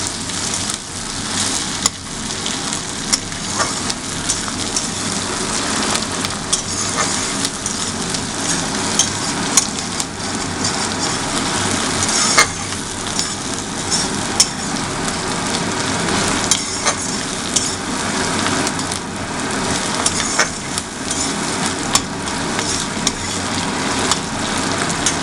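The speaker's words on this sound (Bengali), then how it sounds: "রসুন কুচি, তারপরে আদা লঙ্কা কুচি আর টমেটো কুচিটা দিয়ে দিলাম। নিয়ে এবার জিনিসটাকে ফ্রাই করতে দেওয়া হচ্ছে।" Chopped garlic, ginger, green chili and tomato frying in hot oil for a home-made egg tarka, a steady loud sizzle and crackle running continuously without speech.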